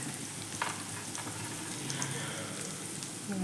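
Vegetables including eggplant sautéing in oil for vatha kuzhambu, a dense steady sizzle with light stirring clatter throughout.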